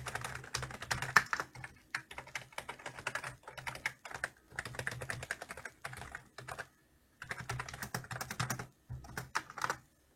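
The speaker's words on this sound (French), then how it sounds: "Pour le son des touches, ça donne ça, à peu près." Keys clatter on a Logitech G213 Prodigy gaming keyboard in quick close bursts of typing, broken by short pauses, with no voice over it.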